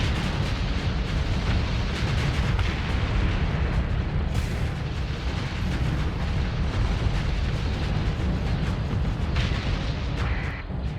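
Dense, continuous barrage of ship weapons in the Star Wars–modded space game Starsector, booming and bursting without pause for the whole stretch, loud and close with overlapping blasts and no clear gaps.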